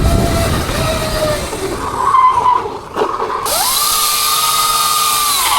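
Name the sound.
electric mini moto motor whining while riding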